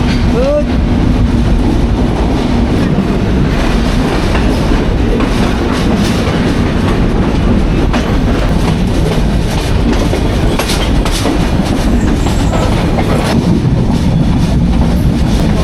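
A night passenger express train on the Dhaka to Khulna route rumbles loudly and continuously, with rhythmic clickety-clack of wheels over rail joints throughout.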